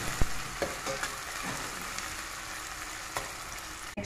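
Onion, garlic and ginger sauté in hot oil for a ginataang kangkong with fish, giving a steady close sizzle with a few sharp spoon or pan clicks as they are stirred; nobody speaks.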